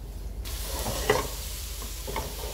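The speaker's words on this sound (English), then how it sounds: "The bacon's got enough fat, and I'm adding the mushrooms at the same time." Bacon and mushrooms frying together in a pan with no oil, only the bacon's own fat: a steady soft sizzle with a couple of brief utensil scrapes or stirs, close by and alone.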